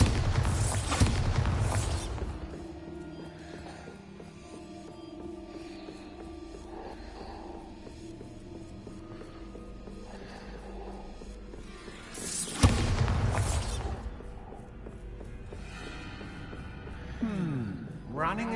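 Booming spell blasts from the Bombarda charm in Hogwarts Legacy, one heavy burst at the start and another around the middle, each followed by a rumbling tail over a low ambient game score.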